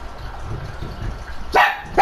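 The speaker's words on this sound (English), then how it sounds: "Sorry about that. That was my dog." A pet dog barks twice indoors, close and loud, in two sharp bursts near the end of the clip after a low rumbling background.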